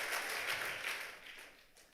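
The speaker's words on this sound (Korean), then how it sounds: "한번 다시 한번 박수합니다." A church congregation at an evening revival service claps together, a lively burst of applause that gradually fades over two seconds.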